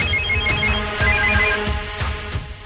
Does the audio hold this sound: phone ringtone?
yes